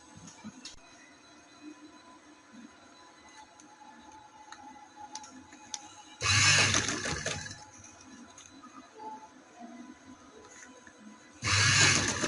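A sewing machine runs in two loud bursts, each stitching along a folded trouser design, separated by a quiet stretch of faint ticking and room noise.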